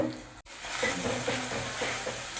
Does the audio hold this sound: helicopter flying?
no